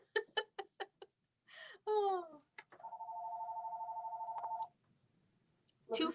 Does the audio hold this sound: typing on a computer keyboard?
no